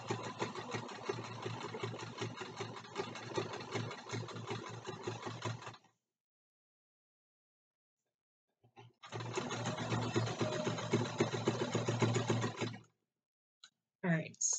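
A sewing machine zigzag-stitches binding onto a quilt block for a mug rug, running in two steady, close mechanical bursts separated by a few seconds of silence.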